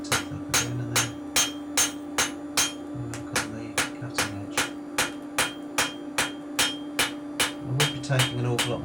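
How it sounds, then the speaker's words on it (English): Steady metallic hammer strikes on a billhook blade's cutting edge ring out one after another at a brisk, even pace, close by, over a low constant hum. "you can do a lot of it by hand with the hammer first"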